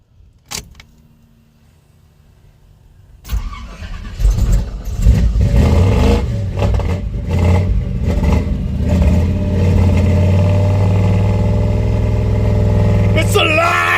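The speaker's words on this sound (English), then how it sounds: "Reconnect the battery, start the truck" A truck engine cranks and catches after a thermostat replacement, then idles and revs with a steady mid-pitched roar, loud and close, following a quiet stretch with a few clicks.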